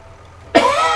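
A single sharp cough bursts in close and loud after a second of quiet low hum, then trails off into a raspy breath.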